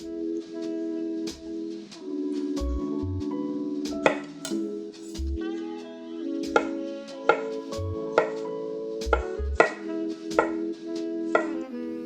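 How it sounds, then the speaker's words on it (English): Mushrooms and garlic chopped with a knife on a cutting board for a spicy creamy mushroom pasta, sharp irregular thuds spaced every second or so under a steady background of music. "That was really the only chopping we had to do."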